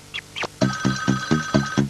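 A custom ringtone plays on a brand new mobile phone, a short musical tune of repeated pulsing tones in a steady rhythm after two brief chirps, close and clear.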